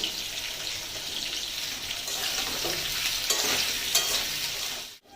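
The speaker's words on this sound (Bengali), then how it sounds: "এটা ভাজার সময় কিন্তু গ্যাসটা কম আঁচে রাখতে হবে।" Raw banana pieces fry gently in a pan over a low flame, a continuous soft hiss close by with faint stirring scrapes and no talk.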